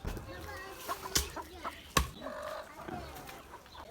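Free-range village chickens, including feather-footed hens and a feather-footed rooster, cluck and the rooster calls close by, with sharp bursts among the birds' chatter and a person talking over them.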